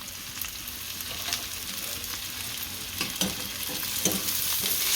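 Veg hakka noodles with masala are tossed and stirred in a hot pan, giving a continuous loud sizzle with faint, irregular scraping strokes throughout.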